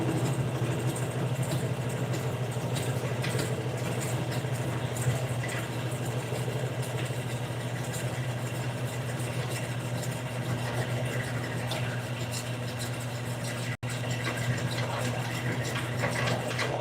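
A steady, loud mechanical drone as a machine spins at about 400 RPM cutting bowling ball plugs, continuous and unchanging with a low hum and a broadband whirr throughout.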